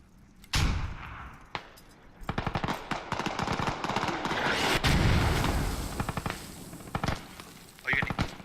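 Gunfire and explosive bursts from an online competitive shooter match, with mortar rounds fired at defenders on the lower DC capture point amid rapid automatic fire and louder thumps, mixed under occasional voices.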